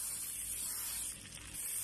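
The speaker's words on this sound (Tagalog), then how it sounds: "isprayan ko siya ng cooking spray" Cooking spray hisses steadily from a can onto barbecue chicken, a continuous close aerosol spray lasting the whole moment.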